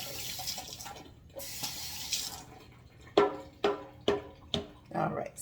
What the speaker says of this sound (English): Let me just rinse this straw really quick.